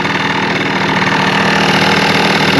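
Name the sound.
Honda Live Dio ZX scooter engine with loud muffler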